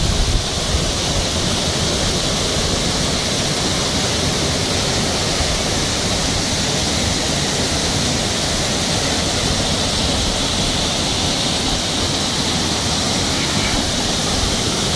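Çiseli Waterfall in Aybastı pours in a steady, loud, broadband roar, with spray and rushing water filling the whole span without a break, in a cold setting with ice forming nearby.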